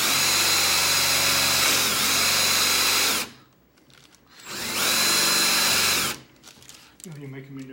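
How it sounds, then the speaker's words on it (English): A power drill whirs loudly in two long bursts separated by a brief pause, followed by a short murmur of voices. "I'm not going to drill into the table, Ray."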